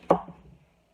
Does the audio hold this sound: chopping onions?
yes